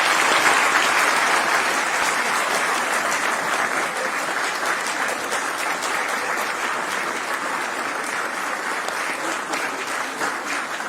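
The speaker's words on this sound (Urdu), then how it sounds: "آپ سب کی بھرپور تالیوں میں صاحبزادہ سلطان احمد علی صاحب." Sustained applause from a conference audience, broad and steady, filling the hall for about eleven seconds without speech on top.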